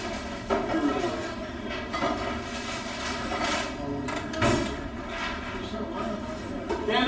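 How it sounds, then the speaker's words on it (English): A New York subway train rumbles through Sheepshead Bay station, its wheels clattering and squealing in a steady, reverberant run with repeated metallic knocks and screeches, heard up close on the platform. "The sounds these trains make are just classic."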